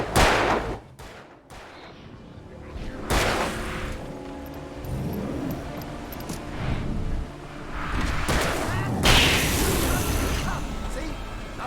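Gunshots ring out in Alan Wake, with a few sharp, loud blasts near the start and later scattered booms and pops, while game voices and ambience fill the gaps.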